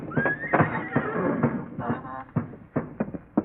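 Horses whinny in barn stalls as a radio drama effect, a high neigh near the start followed by snorts and thumping hoof sounds, moderately close, with a muffled, lo-fi broadcast quality.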